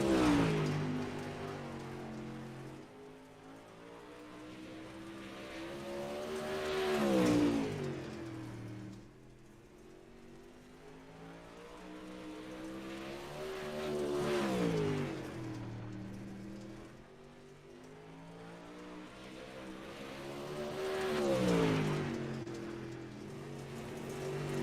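Sim racing modified touring cars in a video game race on the Lanier track, engines revving and rising and falling in pitch as they pass, with loud swells every several seconds over a steady engine drone and no talk.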